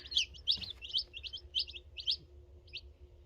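Baby chicks in a coop peep in quick bursts of high, thin chirps, several calls in a row over a low steady background hum, fairly close.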